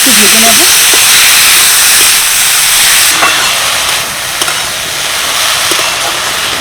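Grated potato and chopped green chillies frying in a pan, giving a loud, steady hiss and sizzle with occasional stirring clicks throughout.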